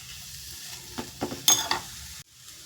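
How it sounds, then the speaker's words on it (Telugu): Carrot tempering sizzles in a hot pan, a low steady frying hiss with a few bright stirring scrapes and spatters in the middle before cutting off. "క్యారెట్ తాలింపు పెడతానని"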